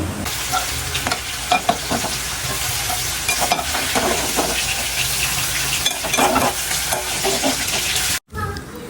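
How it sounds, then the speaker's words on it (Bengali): Taro stems (kochu loti) stir-fried in hot oil in a pot, with a loud, close sizzle and repeated scraping stirs throughout that cut off abruptly near the end before briefly resuming. "তেলের মধ্যে দিয়ে আমি পাঁচ মিনিটের মতো করে নাড়াচাড়া করব"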